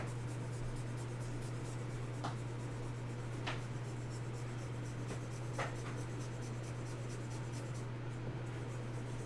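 A graphite pencil shades across paper in continuous oval strokes while drawing a misty landscape, giving a soft, steady scratching with a few sharper ticks over a constant low hum, close and quiet.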